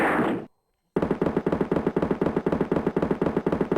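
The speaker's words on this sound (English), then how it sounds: "And I love that there are gunshot sounds, but the cops are carrying batons." Rapid burst of gunfire from the 1991 Carmen Sandiego video game remaster, opening with a brief noisy blast, a short silence, then a fast, even machine-gun-like rattle of shots that runs steadily to the end.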